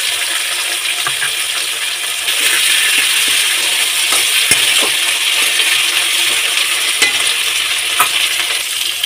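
Ginger and cumin paste sautés with ridge gourd in a pan, a continuous close frying hiss with occasional clinks and scraping stirs, no voices.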